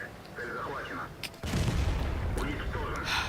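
A KV-1 tank cannon fires in the World of Tanks game: one sharp, booming shot bursts in midway and rumbles on. Game sounds and a voice are heard before and after.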